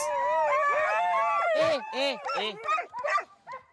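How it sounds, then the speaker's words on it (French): Sled dogs howl and yelp impatiently before setting off on a guided snow sled outing in Lozère, a chorus of rising, wavering howls and sharp barks close by, breaking into shorter bursts toward the end. "les chiens doivent repartir et expriment leur impatience."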